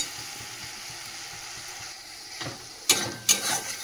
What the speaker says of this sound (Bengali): মশলাটা কষিয়ে নিই।